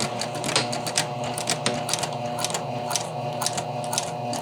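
A sewing machine runs steadily while stitching across a folded skirt vent toward serged edges, a continuous mechanical whir with regular needle clicks throughout.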